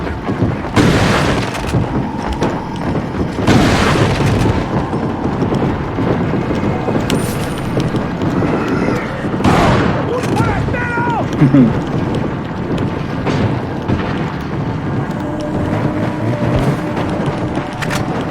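A shotgun in the 2005 video game Resident Evil 4 fires several loud, booming blasts at spaced intervals over a dense, rumbling game soundscape, with faint voices in the background.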